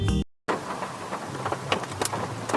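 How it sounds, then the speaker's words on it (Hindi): Heavy rain pours down outdoors in a steady broadband hiss with scattered louder drops, following a brief cut at the start, with no one speaking. "बहुत जोर वर्षा होउजी"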